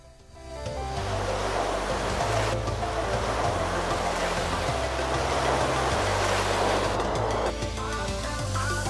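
Surf rolls onto the broad sand of Bentota beach in Sri Lanka as a continuous loud wash, with music playing prominently over the waves.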